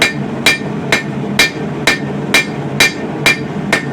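A hammer forges a bowie knife blade from coil spring steel, flattening the marks with evenly spaced, sharp metallic strikes about every half second, close and loud, with no talking.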